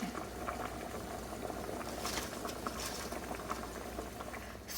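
Thai green curry simmers in a pot as coconut milk is stirred in, a close, quiet, continuous bubbling with soft liquid patter and faint scraping.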